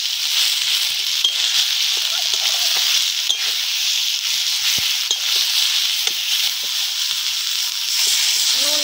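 Ridge gourd peel paste fries in oil with nigella seeds and dried red chilli, giving a steady, close hiss of sizzling with faint scraping stirs throughout.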